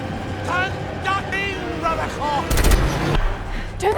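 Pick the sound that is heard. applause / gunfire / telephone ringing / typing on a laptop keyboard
gunfire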